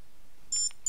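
Short electronic beeping tones from the object-finder sound beacon of a BlindShell Classic 2 phone, two brief high bursts close together, clear against a quiet room.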